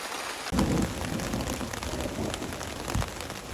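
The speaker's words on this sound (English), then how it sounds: "when the heavens opened up, the rain just would not stop" Heavy rain pours down in a steady hiss during a storm, with dull low thumps like distant thunder mixed into the downpour, continuous and close.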